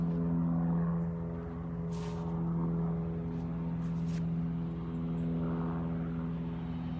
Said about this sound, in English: you hear that plane over top of me